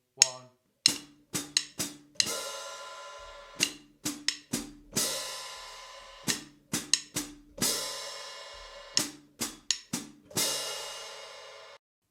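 A drum lick on a kit: quick hi-hat triplet figures and clicky rim hits in bursts, a splash cymbal crashing and ringing out on the fourth beat, the phrase repeating several times at moderate level.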